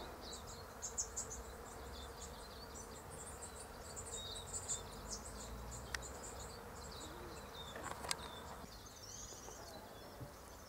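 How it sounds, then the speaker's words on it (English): Faint, continuous buzzing of bees around pink japonica in a spring garden, soft and steady, with occasional chirps of birds in the background. "And a buzz"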